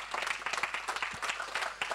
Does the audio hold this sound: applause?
yes